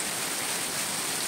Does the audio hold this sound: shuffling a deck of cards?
no